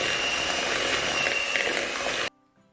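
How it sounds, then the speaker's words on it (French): An electric hand mixer beats slightly firm butter for Christmas cookie dough, giving a steady, dense whir for about two seconds before it cuts off into near silence. "je vais mélanger un petit peu avec le batteur"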